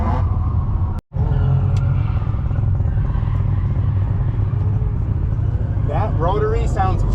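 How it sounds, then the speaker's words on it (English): Steady low engine rumble from a rotary-engined drift car, loud and close throughout with a brief dropout early on, and a voice speaking over the drone near the end. "That rotary sounds so good."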